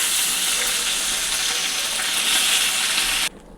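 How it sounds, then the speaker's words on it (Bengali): Fish heads fry in hot oil as a loud, dense, hissing sizzle heard up close, holding steady for about three seconds before cutting off abruptly, with no talking. "আর এখানে মাথাগুলো ভাজা হচ্ছে, এটাও হয়ে গেছে।"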